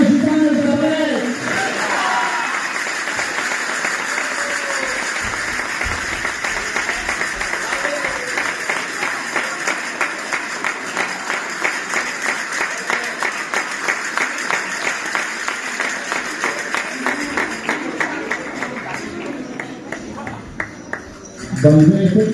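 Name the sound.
audience applause and ovation at a festival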